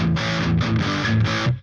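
A distorted electric guitar plays through a NAM amp simulator with a compressor on. A loud, close, dense riff of sustained chords holds nearly even in level before cutting off sharply.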